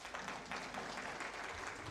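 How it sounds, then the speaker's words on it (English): Audience applause at a judicial inaugural speech, a soft, distant wash of clapping filling the whole moment. "That does deserve a clap, actually."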